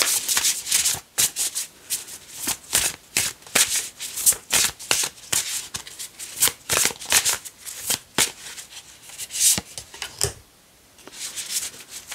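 Tarot cards being shuffled by hand up close, a rapid series of crisp riffling bursts with short pauses between them and a brief gap near the end.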